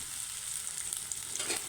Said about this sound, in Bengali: এখন ভেজে নিই।